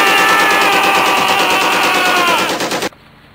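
Rapid sustained gunfire as all remaining bullets are emptied in one long burst, loud and close, a continuous rattling stream of shots that cuts off abruptly near the end, leaving quiet room tone with no voices.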